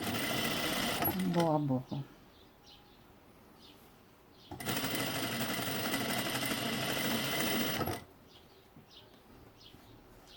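A sewing machine stitches bias binding onto a fabric face mask in two loud close bursts separated by quiet pauses, with someone speaking briefly between them.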